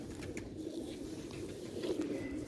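Sialkoti pigeons coo softly and continuously, a low, steady murmuring throughout with no voices over it.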